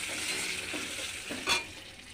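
Onions turning red fry in a pan with spice paste, a steady close sizzle with soft stirring scrapes and one brief louder stroke near the end, no voices.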